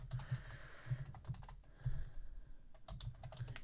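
Typing on a computer keyboard, a steady patter of close, soft key clicks with a few heavier thumps, no talk.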